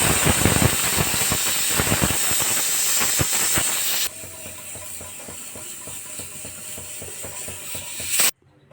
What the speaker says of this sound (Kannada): ಇದು ಒಂದು 2 ವಿಷಲ್ ಕೂಗಿಡಲಿ